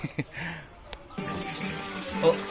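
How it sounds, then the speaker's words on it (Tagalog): Faucet turned on, its water gushing steadily after a moment of quieter sounds, heard alongside a person speaking. "yung gripo. Ayan. Meron na po siyang awas."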